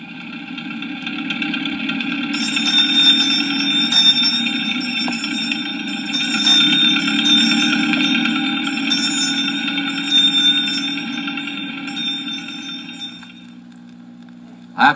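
An ice cream truck plays its jingle as a steady tinkling chime tune, moderately loud over a low rumbling engine, then cuts off near the end.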